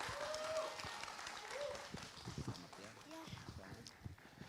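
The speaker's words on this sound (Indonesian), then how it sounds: "Boleh berikan tepuk tangan?" An audience applauds the finalists at a live televised event, with scattered, uneven clapping from a hall heard under a presenter's voice.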